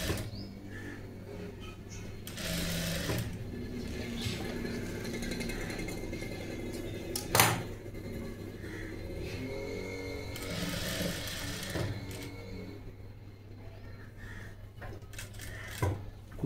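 Sewing machine stitching a boat-neck princess blouse in a tailoring class, running as a steady mechanical hum in bursts, with a louder spell around the start and another later, with a few sharp clicks and no talk.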